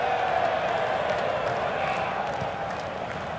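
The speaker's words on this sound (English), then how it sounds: "the crowd enjoyed that one on the feet" Stadium crowd at a football match roaring and applauding after a volley clips the goal frame, a steady, dense wash of cheering with no single voice standing out.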